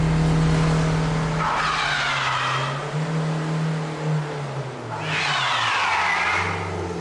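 A car slides on ice with traction control switched off, tyres squealing in two long bursts over a steady engine drone that rises and falls as it revs, loud and close with no talking.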